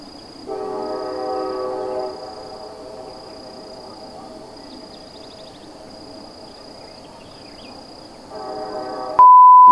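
A distant train horn sounds in a long blast, then again after a pause, over a faint steady rumble and high insect-like whine.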